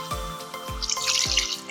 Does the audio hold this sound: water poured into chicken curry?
yes